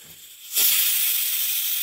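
A roti placed straight over an open gas flame on a home stove gives a sudden loud, steady hiss that starts abruptly and holds, close and alone.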